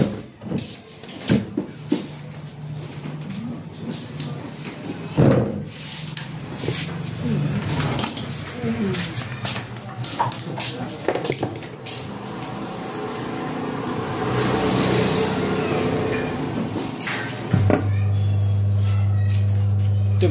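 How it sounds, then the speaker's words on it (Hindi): A washing machine motor, bench-tested with tape stuck on it, starts after clattering handling noises and then runs as a steady, loud low hum to the end, with someone talking over parts of it. "ये हमारा मोटर चल गया है"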